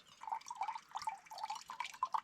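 Warm water, about one and a half cups for bread dough, pours and splashes into a container at a bushcraft camp in a continuous, close, soft trickle with small irregular drips and gurgles.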